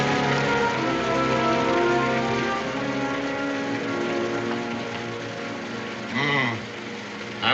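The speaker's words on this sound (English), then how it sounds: "I would have preferred that it hadn't rained tonight." Rain falling outdoors at night in a Daniel Boone television episode, a steady hiss of drops on surfaces filling the background, with a tonal music bed under it.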